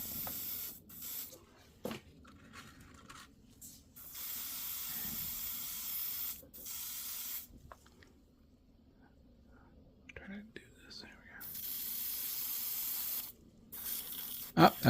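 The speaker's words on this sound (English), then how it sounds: "I'm going to spray the bottom part." A Gaahleri Ace GHAC-98D airbrush sprays paint in close, hissing bursts that start and stop, with soft speech between the bursts.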